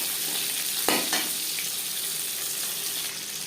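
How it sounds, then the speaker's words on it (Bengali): Hilsa fish pieces lightly frying in oil, a dense, steady hiss of sizzling throughout with a couple of brief louder spatters near the start. "মাছ আমি হালকা করে ভেজে নেব, যেহেতু ইলিশ মাছ।"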